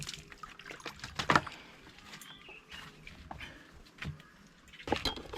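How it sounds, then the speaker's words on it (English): Faint, intermittent trickling and splashing of water as hands are washed outdoors in an African village kitchen, with a few brief louder splashes and no talking. "So of course I need to wash my hands."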